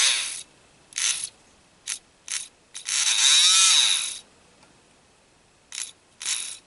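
A Nerf Rapidstrike blaster motor runs on a bench test in short bursts: several brief whirring pulses around one longer spin-up and wind-down, close and fairly loud, with silence between.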